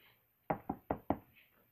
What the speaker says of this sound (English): Pigeon, can you go get the door?